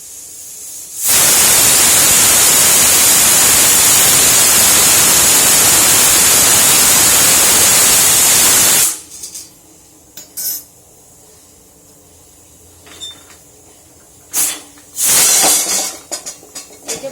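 A pressure cooker on high heat vents a loud, steady hiss of steam for about eight seconds, then stops abruptly and leaves faint clinks and kitchen noises.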